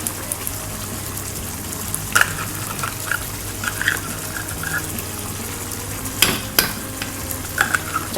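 Liver spread is stirred into a frying pork menudo, giving a steady sizzle with scattered scraping spoon strokes and a few louder clatters against the pan, with no talking.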